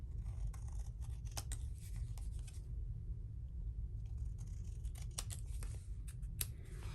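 Scissors trimming cardstock for a paper craft kit, with a series of quick close snips at intervals over a steady low background rumble.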